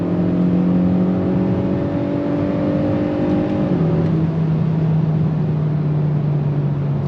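A 2022 Kia Forte GT2 sport sedan accelerates hard on throttle, its engine droning loud and steady from inside the cabin, with a gear change about halfway through that drops the pitch before it climbs again.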